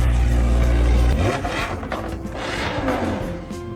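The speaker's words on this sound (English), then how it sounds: "He then immediately started the car to test the new exhaust." A 2018 Audi R8 engine with a new exhaust idles with a deep rumble, then revs up through the loud exhaust, the note rising and falling in short bursts.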